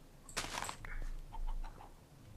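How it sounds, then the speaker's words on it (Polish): A chicken clucks in a video game. A sharp burst comes first, then a few short, fairly close clucks follow in an uneven rhythm, with no talking. "Słyszę kurę."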